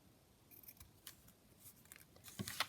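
Small snips of scissors trimming the corners off paper tags, a few quiet close cuts scattered through the moment, with a sharper cluster of snips at the end and no talking.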